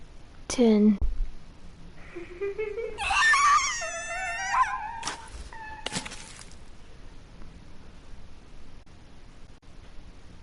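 Horror game Death Mark: a terrified scream heard over a phone and echoing outside a phone booth, rising in several shrill wailing bursts amid short sharp noises.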